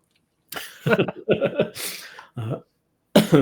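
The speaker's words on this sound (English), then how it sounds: "I might be coughing through today's episode because I've been sick" Several harsh coughs and throat-clearing bursts from a sick person come in a close cluster, followed by another after a short pause, near and fairly loud.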